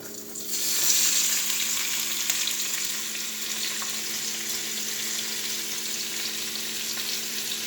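Green and red peppers hit a hot pan on medium-high heat and burst into a loud sizzle that then settles into a steady frying hiss, with no talking.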